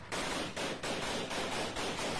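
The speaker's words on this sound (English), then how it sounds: "Let's hear all the gunshots." Sustained gunfire in a battle between rebels and junta forces, dense bursts of loud, harsh shots crackling in rapid rhythmic waves with no talking.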